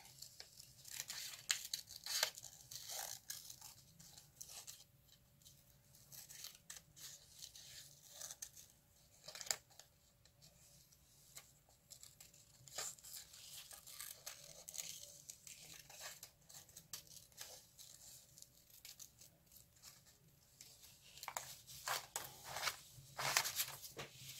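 Paper pictures of a starfish and a snail shell being cut out with scissors for a boho beach collage journal, giving soft intermittent snips and crinkles, quiet and close with pauses between.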